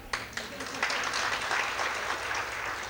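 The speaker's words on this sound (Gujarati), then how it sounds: "જો જોરદાર તાળી" A crowd of listeners at a motivational talk breaks into applause, a brisk wash of many hands clapping that rises quickly and holds steady at moderate loudness.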